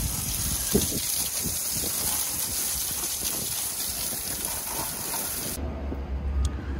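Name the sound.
hose spraying water on a vehicle winch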